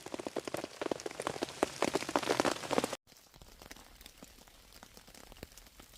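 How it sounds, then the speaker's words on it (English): Rain patters rapidly on a taut tent or hammock tarp overhead during a rainstorm, loud and dense, then the sound drops to a softer, steadier drizzle halfway through. "Still raining."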